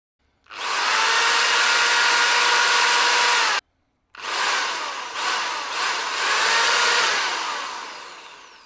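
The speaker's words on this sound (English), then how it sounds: "Let's say drilling." A drilling sound effect: loud, steady power-drill whine runs for about three seconds, cuts out briefly, then resumes for several more seconds with slight wavering before fading.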